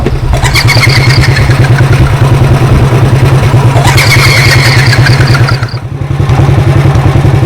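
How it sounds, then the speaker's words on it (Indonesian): A motorcycle engine runs steadily and loud close by before dawn, a low rhythmic throb with clattering mechanical detail and a brief dip near the end. "Subuh-subuh begini motor gue matiin."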